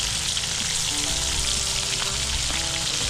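Mustard and green chili paste hits hot oil in a pan, producing a dense, continuous loud sizzle and crackle that stays steady throughout, close and without any voices.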